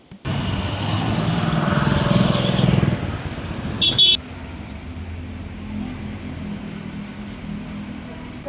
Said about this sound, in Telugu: ప్రదక్షిణ చేస్తున్నాం బైక్లో అయినా సరే